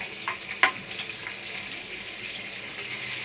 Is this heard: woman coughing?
no